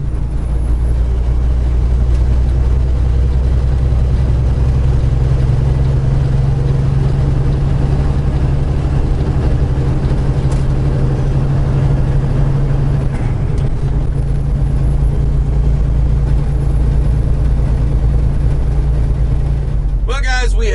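A Kenworth truck cruises at about 70 miles per hour on a highway, its steady low engine and road drone continuous and loud throughout, with a brief shift in the rumble near the end.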